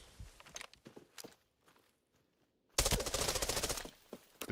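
UMP submachine gun in a shooter game firing a loud rapid burst after a quiet stretch of scattered steps and single cracks, the automatic fire dense and close.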